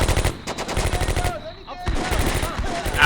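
Rapid automatic gunfire from a World War II combat video game crackles in dense bursts, pauses briefly in the middle, then resumes with overlapping distant shots.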